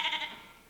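Several people imitate a sheep bleating at a church Christmas pageant, producing a brief, wavering, nasal chorus of baa sounds that fades quickly.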